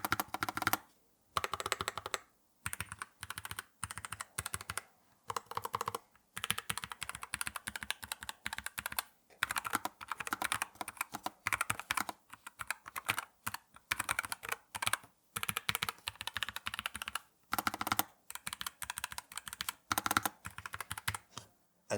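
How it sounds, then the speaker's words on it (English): Rapid, continuous clacking of a NuPhy Air75 V2 low-profile mechanical keyboard with Cowberry switches being typed on close up, in bursts separated by short pauses. "do a typing test on these Cowberry switches so we can hear what they sound like"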